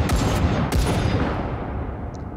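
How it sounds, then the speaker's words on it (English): Rapid-fire gunshots at a shooting range, a quick burst of several sharp, loud cracks close together with ringing tails, fading into reverberant decay. "Let's do a rapid fire."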